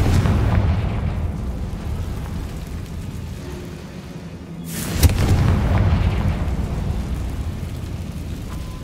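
A booming magical blast spell goes off in a fantasy wizarding video game, with one sharp explosive crack midway, surrounded by a rumbling, low, continuous roar before and after the impact.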